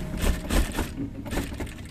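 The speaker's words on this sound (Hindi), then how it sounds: "अब उसके बाद पूरे चारों ओर से राउंड में पॉकेट में सिलाई लगा लेना।" A sewing machine stitches around a shirt pocket in quick, steady mechanical bursts, close and fairly loud, with no talk.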